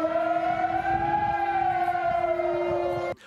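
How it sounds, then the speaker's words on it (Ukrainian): An air raid siren wails steadily with a bending pitch, loud and sustained, then cuts off abruptly near the end, near the Kosovo–Serbia border. "Також вили сирени повітряної тривоги."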